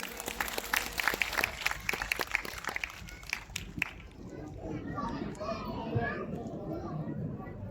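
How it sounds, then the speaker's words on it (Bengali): Audience applause for a prize winner at an award presentation, a few seconds of scattered clapping fading into crowd murmur and children's voices. "ওনার জন্য আমারও করতালি হবে"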